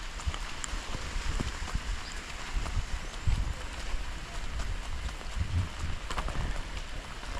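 Heavy rain in a semi-arid Kenyan savanna village, a dense steady patter with scattered heavier drips and splashes, heard close while walking and without speech.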